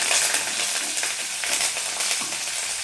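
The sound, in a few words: frying green chillies and curry leaves in a pan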